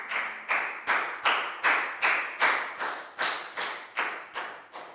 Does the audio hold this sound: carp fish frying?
no